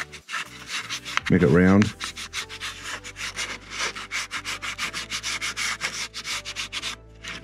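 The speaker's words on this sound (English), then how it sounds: "I'm just gonna lightly sand the top edge on both sides" The top edges of wood pieces for a tavern interior structure are sanded lightly by hand in steady, rhythmic back-and-forth rasping strokes, close and clear. A short spoken phrase comes near the start.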